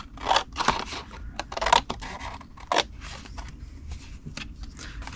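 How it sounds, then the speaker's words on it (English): Scissors snip through a paper treat box along its score lines in a series of close, crisp cuts and rustles, with short pauses between strokes. "we're going to cut 1, 2, 3 to the 4th score line and cut it to the 1st score line"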